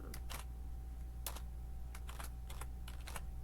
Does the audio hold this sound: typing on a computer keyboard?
yes